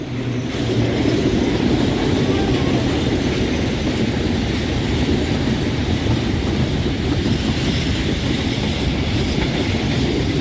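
A train rumbles past close by, a loud continuous roar of wheels on rails with a rhythmic clatter throughout.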